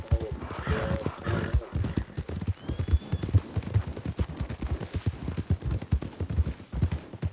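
Rhythmic hoofbeats of a horse galloping steadily throughout in Red Dead Redemption 2, clip-clop thuds evenly paced and close, with faint background effects.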